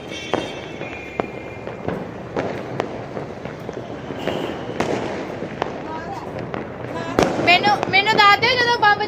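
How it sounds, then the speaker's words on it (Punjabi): Diwali firecrackers and fireworks bursting in Amritsar: repeated sharp bangs scattered through the clip over a steady crowd din, with a denser burst of crackling, whistling rockets near the end; voices chatter in the background. "ਇਸ ਵਾਰੀ ਤੇ ਲੋਕ ਖੂਬ ਪਟਾਕੇ ਚਲਾਉਂਦੇ।"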